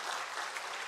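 A church congregation applauds during a Sunday service, a short stretch of steady, moderately loud clapping from many people filling the room.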